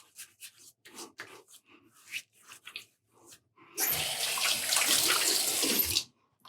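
Tap water gushes loudly and steadily into a sink for about two seconds during a safety razor shave with Proraso preshave and soap, following a stretch of quiet rubbing and dabbing sounds.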